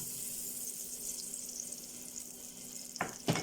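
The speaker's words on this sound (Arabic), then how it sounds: "انا بالشكل ده كده ابتدي اسيح الزبده مع البوتاجاز بالشكل ده." Butter melts in a pot over a gas stove burner, giving a soft, steady sizzle and hiss, with a couple of sharp clatters near the end.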